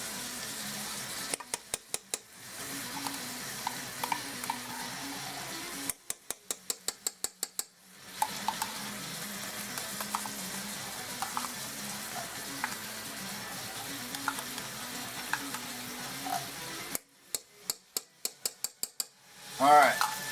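Tomato paste is stirred into chili sizzling in a pan, with a soft, continuous frying hiss broken by bursts of utensil scraping and clinking against the pan.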